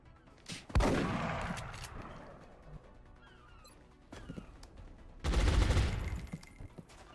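Gunfire from XCOM: Long War, with two loud bursts of shooting, each a sharp crack trailing into a roaring decay, separated by a quieter lull with faint game sounds.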